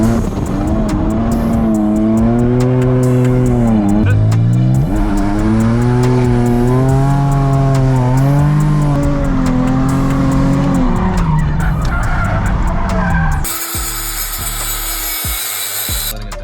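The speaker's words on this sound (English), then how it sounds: "Now we go street drift." A Nissan 350Z with an angle kit and welded differential drifts on a street, its loud engine note rising and falling in long revving sweeps with tire squeal, then cutting to a harsher, steadier noise near the end.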